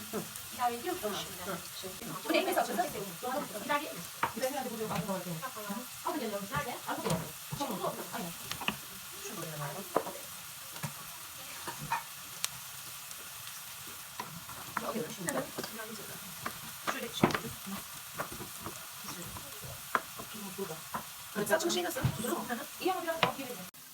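Pepper paste frying in oil is stirred around a pan, with a soft sizzle under repeated scraping strokes of a utensil, moderately loud and close.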